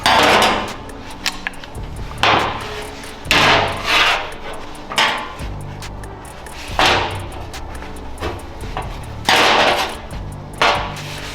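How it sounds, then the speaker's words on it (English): Hammer blows knock worn bushings out of a Honda Civic Si part, about a dozen sharp metallic strikes spaced irregularly at close range, each ringing briefly, with no talking. "The goal is to pop these bushings out."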